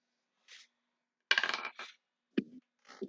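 Dice clattering onto a table during a tabletop role-playing game, a few short rattling bursts close by with brief gaps between them.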